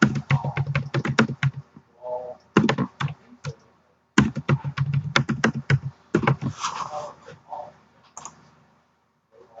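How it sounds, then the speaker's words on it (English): Typing on a computer keyboard nearby, with clusters of crisp key clicks in quick bursts separated by short pauses, ending in a few isolated taps. "we have to type it twice"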